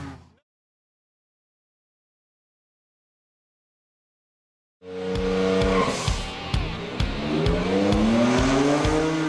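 A modified pickup truck, a Ram SRT-10 or F150 EcoBoost, makes a run on a track, starting after a silent gap with a loud, sudden roar of revving engine, tire squeal and repeated gear-change surges.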